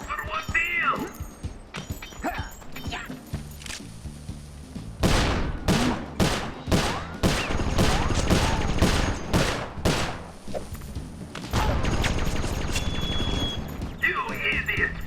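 Enemy gunfire in Sly Cooper: Thieves in Time, Wild West level: voices speak at first, then a loud run of evenly spaced gunshots fires one after another, followed by more talk with clatter behind it.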